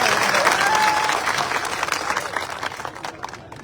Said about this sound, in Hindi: एक बार जोरदार तालियां मुख्यमंत्री।